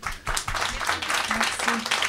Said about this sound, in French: je pense qu'on peut t'applaudir